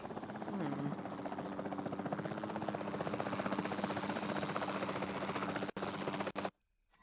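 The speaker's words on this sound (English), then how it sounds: "the sensible thing is to take a capture team helicopter" A capture team helicopter in Jurassic World Evolution 2 whirring with a steady close rotor thrum, loud and continuous, broken by brief dropouts before cutting off near the end.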